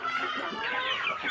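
Broiler chickens on a poultry farm cluck and chatter together, a close, busy flock layering overlapping calls throughout, with no talking.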